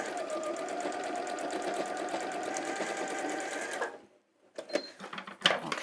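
An Elna 550 sewing machine stitches close beside piping, a steady rapid mechanical chatter for about four seconds that then stops, followed by a few quieter handling clicks and rustles.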